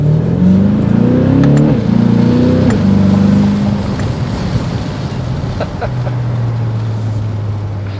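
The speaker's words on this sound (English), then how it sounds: "feel that raw V8 power" A 2023 Chevrolet Corvette Stingray V8 accelerating hard from a stop, loud and close, its engine note climbing through gear changes before settling into a steady lower drone.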